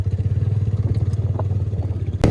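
Motorcycle engine thrumming steadily while riding along a rough road toward Noori Waterfall near Haripur, a close, continuous pulsing drone with faint clatter and a sharp knock at the end.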